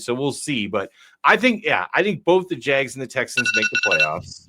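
A phone rings briefly near the end, a bright electronic trill under a man's ongoing chatter.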